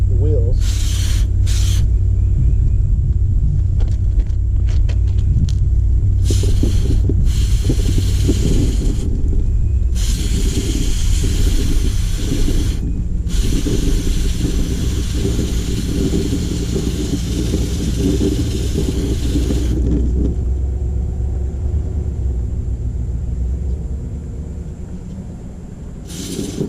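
Cleaner sprayed in repeated hissing bursts onto the chain of a 2023 Kawasaki Ninja 650, several short and longer sprays close by, over a low steady rumble.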